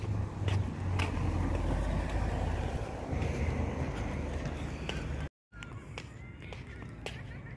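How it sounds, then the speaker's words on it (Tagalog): Heavy car traffic on a New Zealand street rushes past in a continuous loud roar, with passing vehicles swelling and fading, a brief cut to silence, then more traffic noise. "Maraming mga sasakyan pa rin."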